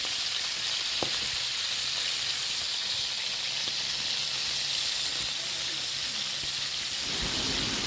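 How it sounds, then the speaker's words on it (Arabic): Pigeons frying in a pan with spices, giving off a loud, steady sizzle and hiss that runs throughout, with a few light knocks of stirring near the end. "انا جيت اشوح الحمام واديله تحميره حلوه على اساس ان يبقى نص سوا"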